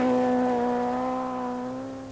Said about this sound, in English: McRae's engine is down on power